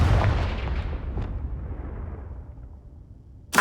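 A Confringo spell blast in the video game Hogwarts Legacy, one loud, close explosive boom that rumbles and fades over about three seconds, followed by the sharp onset of another blast at the end.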